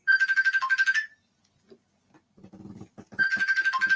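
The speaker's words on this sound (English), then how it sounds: "Sound like a damn Facebook call." Facebook call ringtone on a phone: a loud, close, repeating electronic chime plays for about a second, stops for a stretch with faint low rustling, then starts again.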